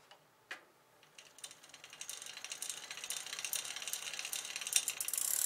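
Ratcheting mechanical clicks from a SRAM Red eTap wireless electronic bicycle drivetrain shifting into the smallest gear, a fast run of close ticks that builds steadily in loudness, with no talking.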